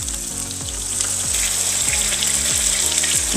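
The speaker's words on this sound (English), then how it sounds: "So it's another onion in there? Mm-hmm. Just kind of... Halbe Zwiebel." Half an onion sizzles in a pan for gravy for German Frikadellen, a steady loud frying hiss with repeated soft scraping or stirring knocks, no talking.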